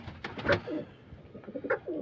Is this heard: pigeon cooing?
yes